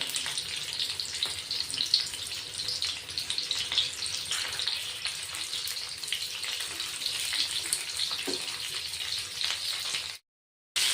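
Stuffed green chillies sizzle in oil in a pan, a steady broadband crackle that runs close and fairly loud for about ten seconds before cutting out briefly near the end.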